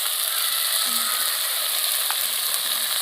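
Turmeric and chili powder frying in a pan for a fish with taro greens curry, a steady close sizzle with faint scraping and clicking of stirring, no voices.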